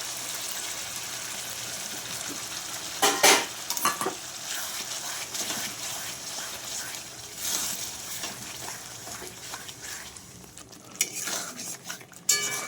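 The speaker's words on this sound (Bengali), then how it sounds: "কাজু পোস্ত বাটাটাও মশলার সাথে খুব ভালো করে কষিয়ে নিতে হবে যতক্ষণ না তেল ছাড়ে" A poppy seed and cashew paste is fried with spices and stirred in a pan, with a constant sizzle under repeated scraping and clattering of a spoon against the pan and a few louder bursts toward the end.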